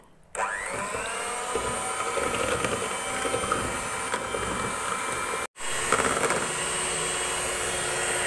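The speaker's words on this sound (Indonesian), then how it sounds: "Saya mixer dengan kecepatan tinggi sampai gulanya benar-benar larut." Electric hand mixer running steadily at high speed, beating sugar for a steamed banana sponge cake; a continuous motor whine holds from start to end with one momentary cut near the end, no voices.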